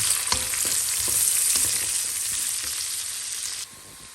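Onion, garlic and ginger hiss and sputter in hot pork fat, a loud steady sizzle broken by sharp crackles and spatula scrapes, easing off a little near the end.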